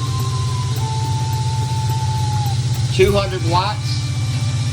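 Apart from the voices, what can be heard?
Off Energy Micro Power generator engine running under load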